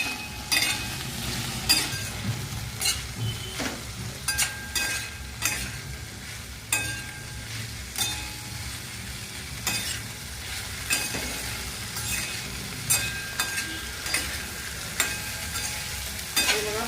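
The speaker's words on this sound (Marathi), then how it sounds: "आणि आपल्याला सर्व आता हलवून घ्यायचंय मस्त." Okra cooking with chili paste, spices and salt is stirred in a pan, with repeated sharp scrapes and spoon clinks every second or so over a steady close sizzle, no talk.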